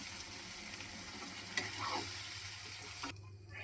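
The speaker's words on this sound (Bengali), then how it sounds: "মশলাটা দিয়ে দিলাম, একটু নাড়বো" Spice paste fries in oil in a pan for a thin khoira fish curry with eggplant, a steady close hiss with soft stirring scrapes that cuts off abruptly near the end.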